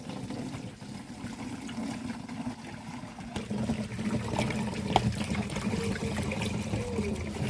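Liquid foliar fertilizer pours from a 20-liter jug into another container, a steady close trickle and splash running throughout without speech.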